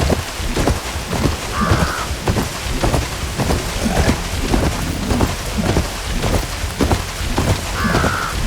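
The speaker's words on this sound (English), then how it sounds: "Can't hear much over the rain." Heavy rain pours in the game Horizon Forbidden West, a dense continuous patter with low rumbles of thunder rolling through and a couple of brief bird-like calls rising above the downpour.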